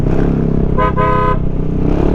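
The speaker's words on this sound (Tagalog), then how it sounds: "Ang ganda din ang busina niya." A Kymco Xciting 400S scooter horn gives one short, bright honk of about half a second, heard over the steady loud rumble of the 400cc engine and road noise while riding.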